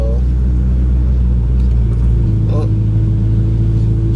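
A 1994 Acura Integra LS, fresh from a clutch slave cylinder replacement and with a dented header, drives with a loud, steady engine rumble and low exhaust drone, someone talking over it from inside.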